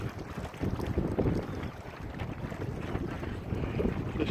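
A cold northerly wind gusts over a big lake, buffeting the microphone in a constant broadband roar with rising and falling surges, heard from a drifting boat.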